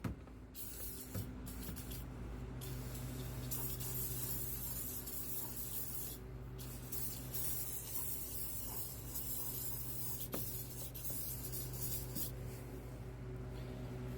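A continuous hissing spray of throttle body cleaner from an aerosol can on a 2021 Kia K5, steady and close, lasting most of the clip over a low engine hum.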